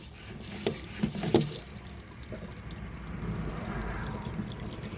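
Water is hand-pumped from a 5-gallon jug, with a few sharp splashes and pump clicks early on, then a steady soft trickling stream that runs to the end.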